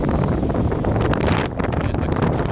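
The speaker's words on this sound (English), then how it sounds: "It's really windy and cold and sort of raining." Strong wind buffets the microphone on a Hastings beach front in cold, rainy weather, a steady loud roar of gusts and rumble that runs unbroken throughout with no voices.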